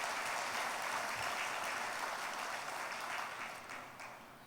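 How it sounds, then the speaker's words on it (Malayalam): A church congregation claps in praise during a Malayalam sermon on marriage, a steady, fairly distant wash of many hands that fades toward the end. "ഒന്ന് കൈയുയർത്തി കൈയടിച്ച് കർത്താവിനെ മഹത്വപ്പെടുത്തുക"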